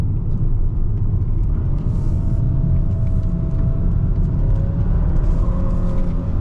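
A 2024 Hyundai Sonata N Line pulls hard under full throttle with brief wheel spin, a loud, steady engine and road roar filling the cabin with a rising tone and no talk.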